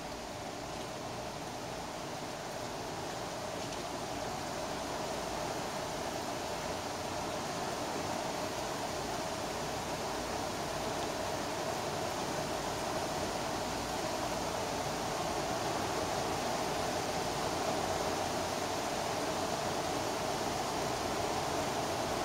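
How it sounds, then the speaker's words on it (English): A heavy rain downpour during a thunderstorm makes a steady, unbroken wash of hiss outdoors, holding an even, fairly loud level throughout with no voices. "That's the sound of rain."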